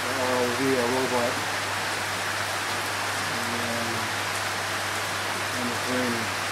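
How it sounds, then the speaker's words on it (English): Rain falls in a steady, broad hiss that fills the scene while people talk briefly in the foreground. "And it's raining."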